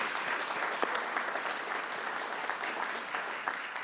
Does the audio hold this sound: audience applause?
yes